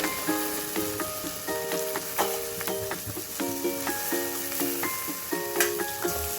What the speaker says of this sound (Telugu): ఆకుకూర ఇది వేసి వేయించేసుకోండి.